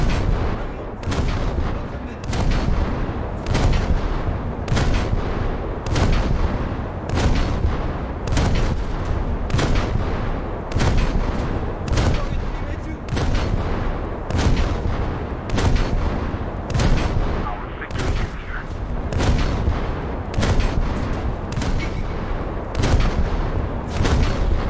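Naval guns in a ship battle video game fire heavy, booming salvos in a steady rhythm, about two shots every few seconds, loud and reverberant throughout with no pauses.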